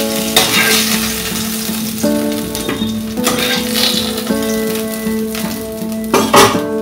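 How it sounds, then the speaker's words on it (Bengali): Katla fish pieces frying in mustard oil in a kadai, a loud close sizzle broken by spatula scrapes and metallic clinks against the pan, with a humming tone underneath and no voices. "2 পিঠ লাল করে ভেজে নেব।"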